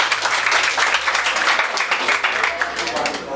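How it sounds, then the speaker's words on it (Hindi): An audience at a school annual function breaks into loud, sustained applause, a dense wash of clapping that holds steady throughout. "बजाओ सांगोद के लिए एक बार जोरदार तालियां।"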